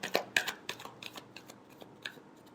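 Tarot cards being shuffled by hand, a quick run of crisp flicking and riffling snaps close up, uneven in rhythm over a faint background.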